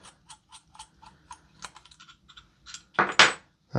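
Small screws being worked out of an airsoft XM5 barrel assembly with a hex key: a run of light, close metallic ticks and clicks, with a louder burst of rattling near the end.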